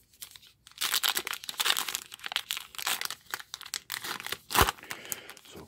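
Foil wrappers of 2017 Topps Gypsy Queen baseball card packs are torn open, giving a dense run of close crinkling and ripping with brief pauses between tears.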